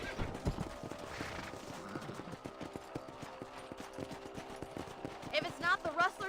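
Horse hooves clip-clop in a steady walking rhythm in the Western video game Red Dead Redemption, close and clear, with a brief whinny and other game sounds near the end.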